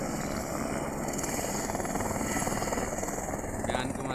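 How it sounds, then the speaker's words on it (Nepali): A helicopter flies near Annapurna Base Camp in the Himalayas at dawn, its steady rotor and engine roar continuous and fairly close, filling the mountain air as someone speaks over it. "वरिपरि हेलिकप्टर आइरहेको छ।"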